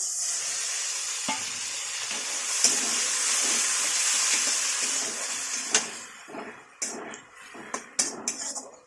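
Water splashed into a hot frying pan of pointed gourd and prawns sets off a loud, steady sizzle that fades over several seconds, followed by scattered clinks and scrapes of a stirring utensil against the pan.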